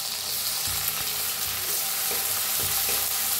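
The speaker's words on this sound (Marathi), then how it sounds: "टमाटर बी हलवून छान असं भाजून घेऊया।" Tomatoes frying with garlic and green chilli in a pan for a dill (shepu) vegetable dish give a steady, close sizzle, with a few soft stirring scrapes over the continuous hiss and no talking.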